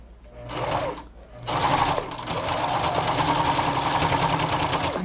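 A sewing machine stitches a patchwork carnival princess crown in close, loud, rapid bursts: a short run, a brief pause, then a long continuous stretch of fast mechanical whirring.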